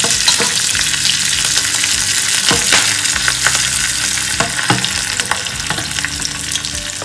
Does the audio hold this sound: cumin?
yes